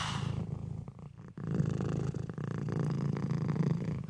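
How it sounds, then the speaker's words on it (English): A cat purrs close up, a continuous low rumbling drone that carries steadily through the clip with a brief dip partway, no voices. "Okay, I loved that cat. That cat was adorable."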